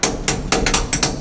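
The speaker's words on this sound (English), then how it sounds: "Good thing I got my hammer." Several sharp metallic hammer blows strike a stuck bolt on a John Deere 8820 tractor, about six close, loud hits in an uneven rhythm with brief pauses between them.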